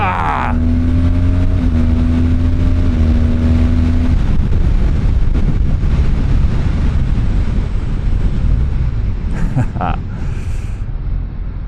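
A BMW R12 motorcycle with a boxer engine is ridden on the road, its engine droning and shifting pitch under heavy, steady wind roar at the helmet microphone.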